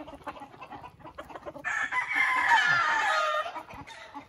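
A gamecock rooster crows once, loud and close, in a long drawn-out call after a stretch of scattered clucking and farmyard noise.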